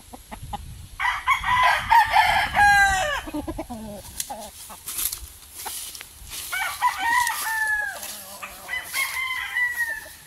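Five-month-old gamefowl roosters, Gilmore and sweater gray breeds, crow repeatedly at close range on a chicken farm, long drawn-out calls alternating with clucks and short squawks, with no talk.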